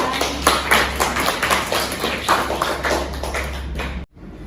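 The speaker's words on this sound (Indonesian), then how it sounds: "Oke, aplaus dulu untuk Bulan" Classroom applause for a student, a steady patter of many hands clapping for about four seconds before cutting off abruptly, followed by quiet room tone.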